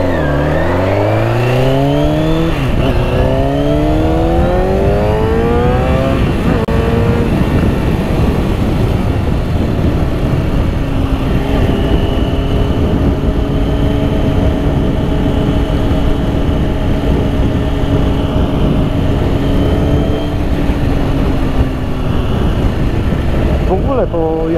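Kawasaki Ninja 636 sport motorcycle running and revving up loud and close, with rising engine sweeps early on, then a steady high cruising drone at speed with wind rush, accelerating again near the end.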